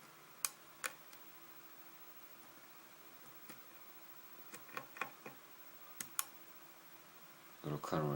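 A hook pick working a 6-pin MX lock, faint scattered metallic ticks and clicks at close range over quiet background, spaced irregularly with a brief rustle at the end.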